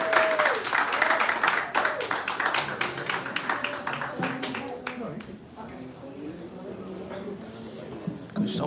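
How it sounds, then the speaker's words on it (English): Crowd applause at a concert venue, a burst of clapping that thins into scattered claps while voices talk and call out over it. "Get another round of applause for Adrian."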